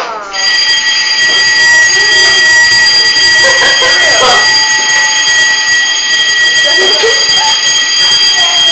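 A fire alarm sounds inside a Pizza Express restaurant, a loud, steady high-pitched electronic tone that runs continuously, with people talking and calling out beneath it.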